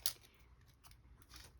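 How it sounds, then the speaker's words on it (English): Dull scissors snipping paper for junk-journal faux postage stamps, one sharp close cut at the start followed by softer, quieter snips in a quiet room. "these scissors are not great"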